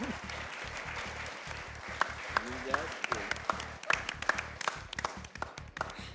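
Clapping from a studio audience on a cricket talk show, steady applause building louder toward the end while someone speaks over it.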